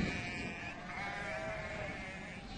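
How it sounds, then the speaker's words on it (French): Sheep and lambs bleat repeatedly in a Caucasus flock at lambing time in March, several overlapping calls at moderate distance over a steady outdoor background, with no talk. "En mars, les brebis mettent bas."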